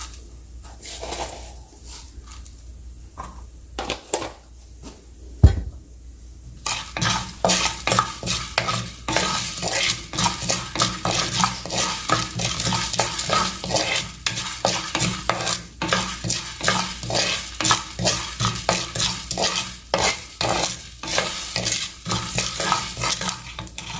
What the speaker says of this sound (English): Now I'm adding about 1 teaspoon of cumin seeds.